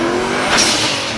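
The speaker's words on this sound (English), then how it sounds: "A little spin of the wheels out of the gate." A drag race car launches with a little wheelspin at a Ford Nationals street shootout at Carlisle, 2020: a loud, close burst of engine roar mixed with tire squeal, brief and alone.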